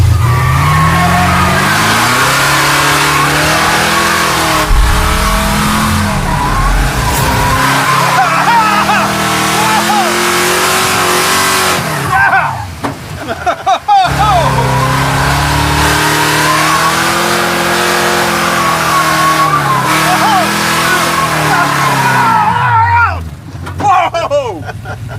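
Boosted 1940 Ford accelerating hard, its engine roaring loud and close through rising revs and gear changes in two long pulls, with people talking over it.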